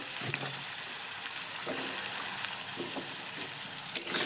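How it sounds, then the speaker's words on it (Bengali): Potatoes fry in hot oil left over from cooking eggplant, a steady close hiss and crackle with faint occasional clinks, continuous and even. "আলুটা দিয়ে একটু ভেজে নেব"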